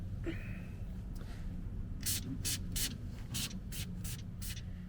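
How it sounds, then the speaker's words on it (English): Several short hissing bursts of fine Lanoguard rust protection spray from a nozzle onto a Jaguar XJ40, repeated in quick succession over a steady low background rumble. "Okay, let's have a go at spraying some of this stuff."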